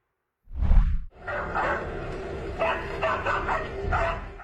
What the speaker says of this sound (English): dogs were heard barking wildly as they chased something moving fast between the trees